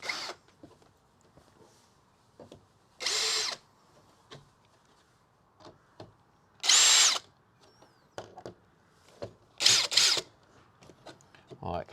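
A power drill drives bigger replacement screws into a fitting on a wall, three or four loud whirring bursts of a second or so each, separated by quiet stretches with small clicks and handling noises.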